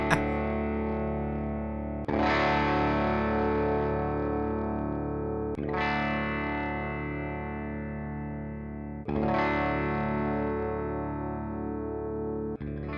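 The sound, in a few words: electric guitar playing open chord in open D tuning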